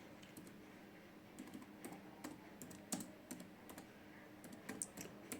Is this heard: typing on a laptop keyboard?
yes